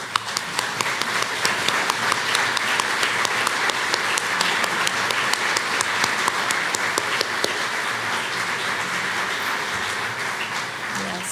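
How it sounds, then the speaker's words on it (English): Sustained applause from a crowd, dense and steady clapping that carries on for several seconds without pause, slightly easing toward the end. "give them a round of applause"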